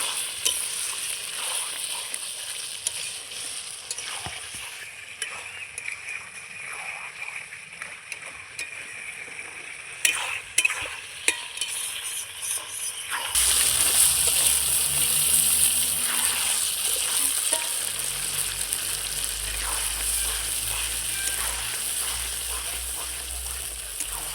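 Spicy Bengali chicken kosha sautéed and stirred in a pan, a low sizzle with scraping of the spoon and a few clacks, growing louder and wetter midway and continuing steadily.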